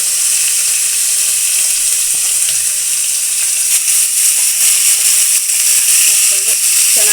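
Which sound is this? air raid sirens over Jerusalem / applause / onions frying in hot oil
onions frying in hot oil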